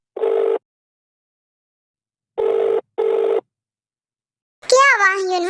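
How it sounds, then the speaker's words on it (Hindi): Phone ringing with an incoming call, heard as three separate loud electronic ring bursts spaced apart with silence between them, followed by a voice speaking. "किसका फोन आ रहा है?"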